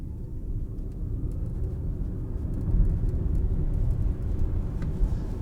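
A 2024 Audi Q8 e-tron 50 electric SUV in Dynamic/S mode accelerates with no added fake sounds, giving a steady low road-and-wind rumble inside the cabin that swells slightly partway through.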